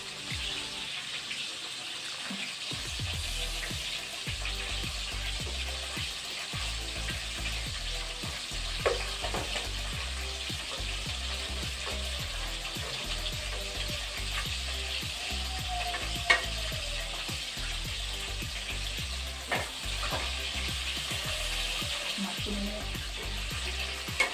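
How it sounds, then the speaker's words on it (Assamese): Steady sizzling of fish frying in hot oil runs throughout, with occasional clinks and stirring sounds from a pan. "ফাৰ্ষ্ট মাছখিনি ফ্ৰাই কৰি লওঁ"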